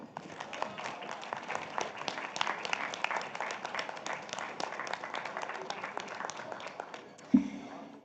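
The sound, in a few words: round of applause for the guest of honor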